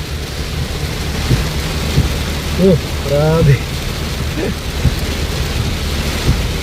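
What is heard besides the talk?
very heavy rain with thunder, storm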